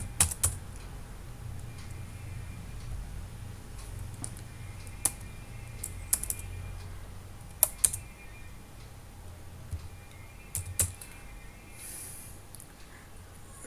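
Someone types passenger details for a bus reservation on a computer keyboard. The faint, irregular key clicks come in short bursts with a few sharper taps, over a low steady room hum, and nobody speaks.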